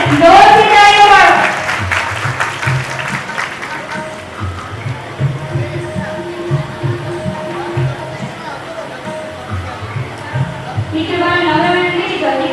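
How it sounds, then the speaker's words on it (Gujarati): An audience at a community award ceremony honouring daughters for academic achievement claps in a loud burst at the start and again at the end, with a speaker talking over the hall's murmur in between. "જોરથી તાળીઓ પાડો."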